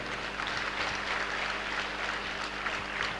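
Faint, steady applause from a crowd in an auditorium, a continuous low-level patter of many hands heard from a distance with little else over it.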